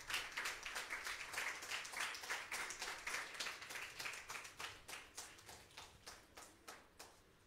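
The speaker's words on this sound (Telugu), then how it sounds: "చప్పట్లు కొడదాం అందరము." A church congregation claps together in a rhythmic burst of distinct, evenly spaced claps that gradually thin out and fade, fairly quiet and with no talking.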